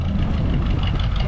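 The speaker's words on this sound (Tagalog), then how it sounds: "Para makina ng jeep yun" A jeepney-type jeep engine runs steadily nearby with a low, continuous rumble and chugging idle texture, loud and unbroken for its short length.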